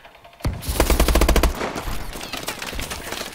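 Rapid automatic gunfire from the video game Call of Duty Advanced Warfare in a 1v1 match, a loud dense burst of shots followed by continuing scattered fire and clatter.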